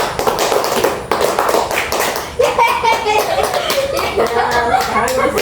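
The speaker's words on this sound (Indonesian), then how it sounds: "Tepuk 1, tepuk 2, tepuk 3" A class of children claps along to a counting song, sharp rhythmic hand taps in quick groups, with children's voices singing and chuckling over the claps.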